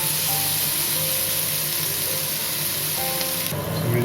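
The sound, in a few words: ground tomato paste sizzling as it is added to pan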